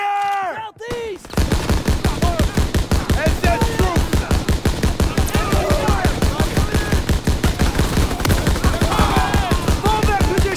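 Sustained machine gun fire in the Call of Duty WW2 game, a loud, dense stream of rapid shots running nearly without pause after a brief shouted call, with battle voices faintly mixed in.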